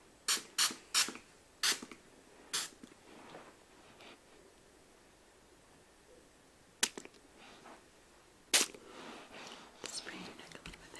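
Short hissing bursts of hair spray mist from a can held at a distance onto hair and neck, several quick puffs in a row, then a couple of isolated sprays among soft whispering in a quiet room.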